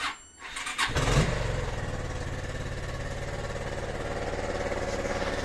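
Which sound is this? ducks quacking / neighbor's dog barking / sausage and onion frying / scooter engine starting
scooter engine starting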